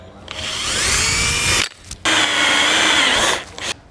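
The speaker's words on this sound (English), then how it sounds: "So get started by drilling 2 right away." Power drill boring holes in a Fox Body Mustang hatch for a wing strut, two loud sustained whining bursts with a pitch drift, separated by a short pause, close by.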